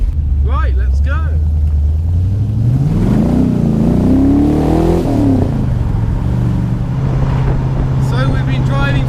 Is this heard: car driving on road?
yes